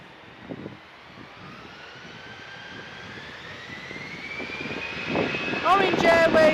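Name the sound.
EasyJet airplane at Manchester Airport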